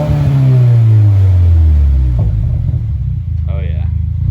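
A Subaru WRX with a new exhaust and 4-inch tips revs loudly up close, its deep rumble sweeping down as it settles into a throbbing idle, with a voice speaking briefly near the end.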